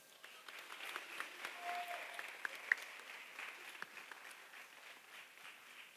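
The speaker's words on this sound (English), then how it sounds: "Give them a round of applause." Applause fills a class as the audience gives a round of clapping, a soft, fairly distant patter of many hands that holds for several seconds with a few sharper claps.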